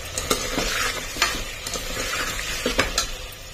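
A utensil scrapes and stirs through raw-potato halwa in a pan, with repeated sharp clinks over a steady background sizzle.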